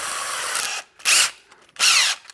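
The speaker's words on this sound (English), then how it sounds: "This is a speed bore. They sell them in packs of 3, okay? I love these things. They make quick work of making holes." Power drill boring holes with a 3/4-inch speed bore bit, three loud whirring bursts in close succession, the first longer and the next two short.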